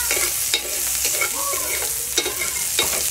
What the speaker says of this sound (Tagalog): gisa po tayo ng bawang